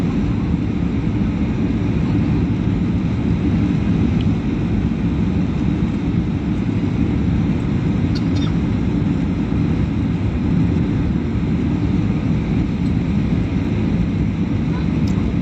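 A passenger aircraft flying over Dhaka fills the cabin with a loud, steady, broadband engine roar and rushing air that holds unchanged from start to finish.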